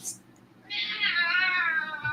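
A large pet cat named Tobers gives a single drawn-out meow lasting over a second, close and clear, preceded by a brief faint sound.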